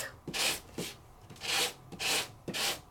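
Close, quiet rasping strokes of a sanding block rubbing over paper, about five back-and-forth passes with short pauses between.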